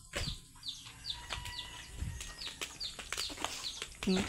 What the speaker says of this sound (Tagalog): Oh, may chicken doon.